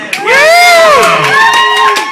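A crowd cheering and whooping loudly for a first-time guest being introduced at a live show, with high excited voices rising and falling continuously and little clapping standing out.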